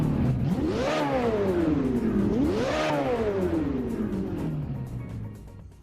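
A Ferrari California engine in the racing game Assetto Corsa revs up twice in rising, whining sweeps, then drops back and fades slightly toward the end, close and loud with no talk.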